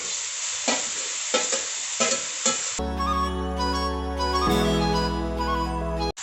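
Carrots and other vegetables stir-fried over high heat in a pan, with scraping stirs and a steady sizzle; partway through, a loud tonal music-like layer rises over the frying.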